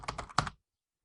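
Several quick keystrokes on a computer keyboard, close and fairly faint, in a brief cluster before falling silent.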